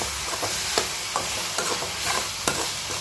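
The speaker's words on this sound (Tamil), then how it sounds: "இப்போ இது நல்லா வதங்கட்டும்" Dried red chillies frying in a pan for tomato chutney, a constant hissing sizzle punctuated by regular sharp scrapes and taps of a ladle stirring, close and fairly loud.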